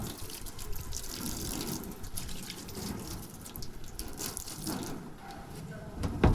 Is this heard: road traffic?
no